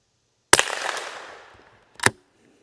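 Two sharp cracks from a Savage B22 Thumbhole Timberlite .22 rifle fired at targets outdoors. The first shot has a long fading echo, and a second, shorter shot follows about a second and a half later.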